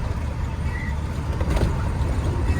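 A car drives through a city street in falling snow, a steady low engine and tyre rumble heard from inside the cabin, continuous and moderately loud.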